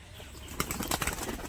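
A male pigeon flaps its wings while doing a flip and then lands. The flutter is brief, soft and rapid, and lasts only a moment.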